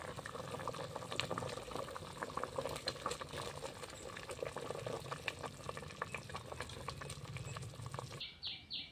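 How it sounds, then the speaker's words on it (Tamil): Oil heating in a pan, crackling and bubbling faintly in a dense stream of small pops, ending abruptly near the close. "ஃப்ரெண்ட்ஸ், எண்ணெய் வந்து கொதிச்சிருச்சு"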